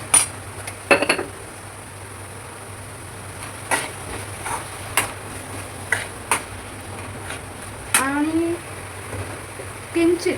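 A utensil taps and scrapes in a dish while salt is mixed into chutney, sharp intermittent clinks spread across the stretch over a low steady hum, with someone talking between them.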